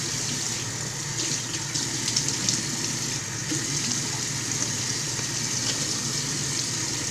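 A bathroom tap runs continuously while someone wets their face at the sink, a steady close splashing rush of water lasting throughout with no talking.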